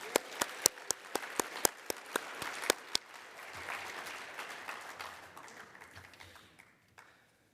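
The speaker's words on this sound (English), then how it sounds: "One more round of applause, please." Guests at a youth soccer awards gala applaud. A run of loud, evenly spaced claps from one nearby person rings out first, then a softer crowd applause swells and fades away.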